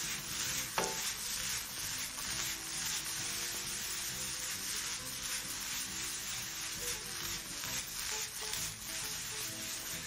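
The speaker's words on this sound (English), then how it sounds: "Now proceed to toss those all together in a pan." Broccoli and other vegetables are tossed in a hot pan, giving a steady soft sizzle with light stirring scrapes and a brief clink, heard alone without talk.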